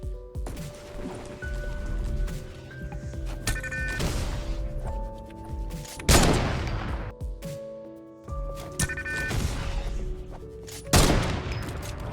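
Fortnite gunfire in a game session: several sharp, loud shots and bursts spaced a few seconds apart over game music and effects, with no talking.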